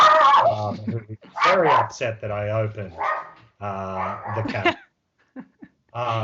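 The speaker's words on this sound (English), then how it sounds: "and that's my dog" A dog in an office barks, yips and whimpers in agitated bursts close by, mixed with a person talking over it throughout.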